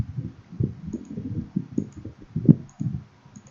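A computer mouse clicks sparsely and softly, a dozen or so light taps at uneven intervals with one sharper click, in a quiet room with no talking.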